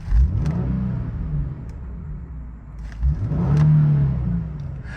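A car engine revs in two distinct bursts, rising and falling with a deep, close rumble between short pauses, with no talking over it.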